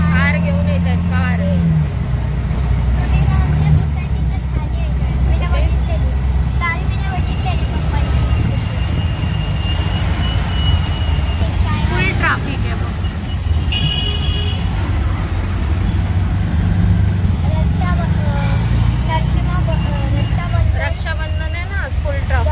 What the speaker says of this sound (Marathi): रक्षाबंधन आहे ना, फुल ट्रॅफिक आहे बघ।